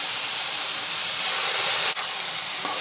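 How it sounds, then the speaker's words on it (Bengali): Soy sauce hits a hot pan of beef fried rice with cabbage, producing a loud, steady, close sizzling hiss that holds for a few seconds with a brief dip near the end. "এখন সয়া সস দিয়ে দিব দুই টেবিল চামচ"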